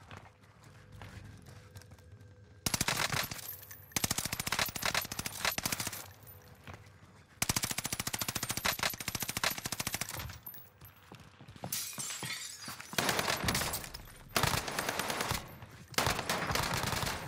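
Welgun submachine gun fire in Call of Duty on Rebirth Island: several loud bursts of rapid automatic shots, separated by short quieter gaps, with no talk over them.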